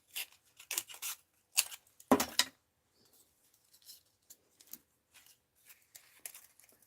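Scissors snip through craft material for a mixed-media rag doll project. Several crisp, close cuts come in quick clusters, followed by softer scattered rustles and snips.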